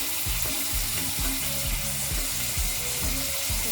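Tomatoes tipped into onions browning in hot oil, setting off a steady, loud sizzle and frying crackle that fills the whole stretch, with faint scraping stirs underneath.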